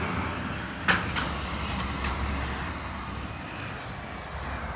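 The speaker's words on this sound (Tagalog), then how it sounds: "pakaswerte natin at nakita natin yung dumaan na train" A passenger train and a cargo train pass at a distance outdoors, giving a steady broad rumble with a brief louder clank near the start, held at an even level throughout with no talking.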